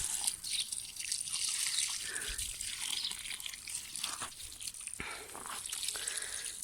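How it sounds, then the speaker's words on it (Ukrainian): Water trickles steadily and softly, with a broad hiss and a few faint drips, no voices. "Воно так погано вода тече."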